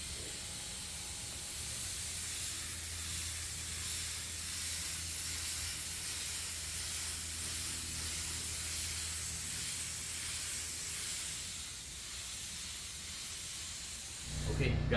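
A spray gun hisses steadily while laying a red base coat onto a Tesla Model 3 bumper during a mobile repair in Phoenix, a long, even close hiss that cuts off near the end.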